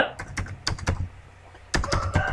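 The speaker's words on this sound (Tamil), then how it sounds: "இதில் வந்து உங்களுடைய ஆதார் நம்பரை டைப் பண்ணிக்கோங்க" Computer keyboard keys struck while entering an Aadhaar number, a close series of crisp, separate taps in two short bursts with a brief pause between them.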